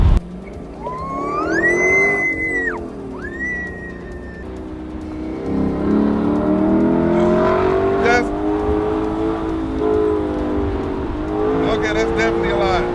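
Lexus LC 500 Convertible accelerates hard in manual mode, its engine note climbing through rising revs and shifts, loud and close; a person exclaims and talks over the first seconds.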